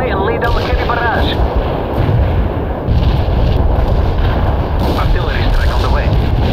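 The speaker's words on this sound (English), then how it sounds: "We can deploy and lay down the heavy barrage." Loud, dense artillery barrage in the war strategy game World in Conflict, continuous rumbling booms and blasts rolling without pause, with voices talking over the battle.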